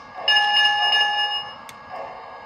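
Lionel Thomas toy train bell, a bright electronic ringing that repeats in quick strokes for over a second, then a fainter second ring, close and without talk.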